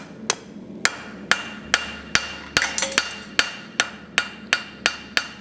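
A blacksmith's hammer, its face in need of cleaning, strikes metal in a steady, even rhythm, about a dozen sharp ringing blows close by with no talking.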